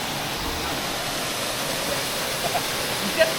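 Steady broadband roar of a jungle waterfall on Tobago where people swim, loud and constant throughout with no voices.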